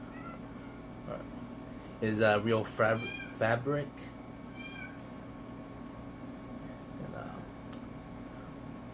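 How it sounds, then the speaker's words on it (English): A pet cat meows several times in a cluster of loud, close calls indoors, with a person talking briefly before it. "One of my cats keep meowing"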